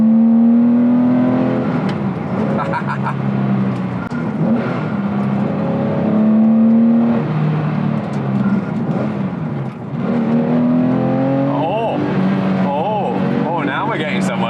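A Paul Stephens Autoart Porsche 993R engine revs up and down through a series of gear changes, loud and continuous with rising and falling pitch between shifts, while someone speaks over it.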